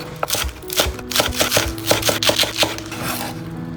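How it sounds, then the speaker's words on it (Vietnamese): A knife chops crushed green onion stalks on a cutting board in quick, irregular close-up strikes, with a few louder knocks, for a Vietnamese grilled pork skewer marinade. "Tiếp theo mình chuẩn bị thêm 2 nhánh hành lá, đập dập và thái nhỏ ra."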